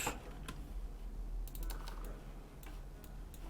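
Someone types on a computer keyboard while playing the tavern management game Tavern Master. The keystrokes are faint, sparse clicks that come in small irregular clusters over a quiet background hum.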